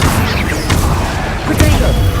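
An Incendio fire spell cast in Hogwarts Legacy bursts out as a loud rushing whoosh of flame with low booming thumps and a couple of sharp crackles, dense and continuous.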